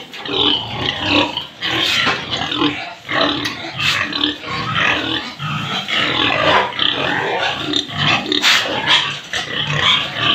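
Pigs on a farm grunting and squealing continuously and loudly up close, a dense overlapping chorus of snorts with sharper squeals throughout.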